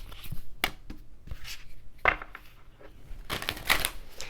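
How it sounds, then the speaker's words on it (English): Tarot cards are shuffled by hand in a series of irregular papery riffles and slaps, close and moderately loud, with a single word spoken briefly. "But let's do some more shuffling and see what else we got."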